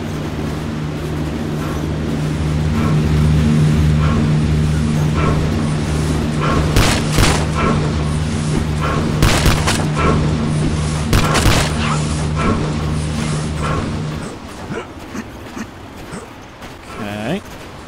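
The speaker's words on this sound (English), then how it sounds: "What is this silenced weapon they're shooting me with? It's just like a silenced M4 with a drum mag." Suppressed M4-style rifle with a drum magazine firing in a video game, a run of muffled sharp shots in clusters over a steady engine-like drone, fairly loud, with a voice talking over parts of it.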